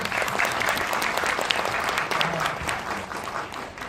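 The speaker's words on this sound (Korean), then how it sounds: "큰 박수 부탁드립니다." Audience applause welcoming an interpreter at a film talk for the animated film Mirai, full and steady clapping from a crowded hall, easing slightly toward the end.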